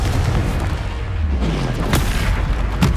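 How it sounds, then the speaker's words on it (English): A Confringo explosive spell in Hogwarts Legacy sets off dense booming blasts with crackling bursts, filling the whole stretch loudly and unbroken. "Confringo!"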